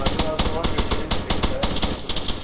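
Rapid, loud bursts of automatic gunfire crackle in a rhythmic stream during a military shooter game, with short pulses repeating steadily throughout.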